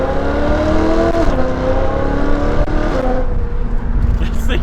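BMW M3 engine under a full-throttle pull, loud and close, with the revs climbing steadily, dropping briefly at each upshift and climbing again.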